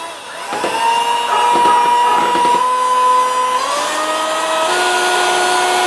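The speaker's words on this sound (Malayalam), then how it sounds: "ഇത് നമ്മൾ നന്നായിട്ട് ബീറ്റ് ചെയ്തെടുക്കാൻ പോകട്ടോ." Electric beater whirring loudly and steadily while whipping an egg white face pack mixture, with a sustained motor tone that shifts pitch slightly partway through.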